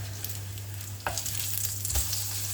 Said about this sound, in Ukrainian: Смажимо з двох боків до золотистої скоринки.